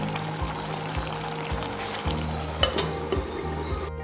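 Paneer do pyaza curry sizzling and frying in a pan, a steady close crackle with soft stirring bumps and scrapes recurring throughout, no voices.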